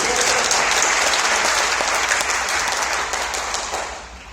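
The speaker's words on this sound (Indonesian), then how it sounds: "Tepuk tangan buat ini." Sustained applause from a large audience, steady clapping that fades slightly toward the end.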